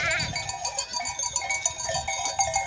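Sheep bleat in a flock before milking, several overlapping wavering calls near and far, with a bell clanking and a faint murmur beneath.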